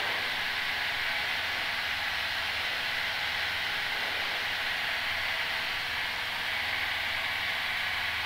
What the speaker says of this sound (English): I get this hissing noise when the pressure's high.